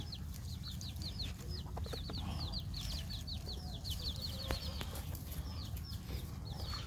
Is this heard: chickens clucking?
yes